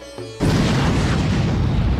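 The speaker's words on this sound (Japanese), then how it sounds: "爆発音。" An explosion in the video game Naruto Shippuden Ultimate Ninja Storm 3 bursts in suddenly after a quiet musical tone, a loud, sustained roaring boom that rumbles on without talk.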